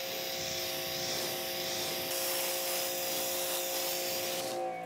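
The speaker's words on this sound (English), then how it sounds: "So now we're gonna use our spray bottle." Water misting from a hand spray bottle onto the paint of a car treated with a ceramic spray coating, a steady continuous hiss that fills the whole stretch at close range with no talk.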